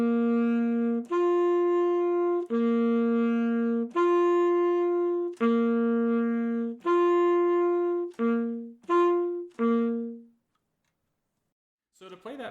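The bass line for a song, a simple pattern on a synthesized tone that moves between two alternating notes. Long sustained notes give way to shorter, quicker ones, heard alone, before a silent pause and a faint noise at the end.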